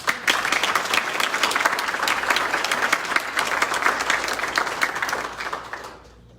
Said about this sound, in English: So please give our leaders a round of applause.